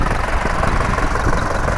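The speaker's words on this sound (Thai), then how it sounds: "เดี๋ยวเรามาฟังเสียงเครื่องยนต์นะครับ" The diesel engine of a 2004 Isuzu D-Max four-door pickup idles steadily up close, a continuous low rumble with a faint rhythmic knock and no talking.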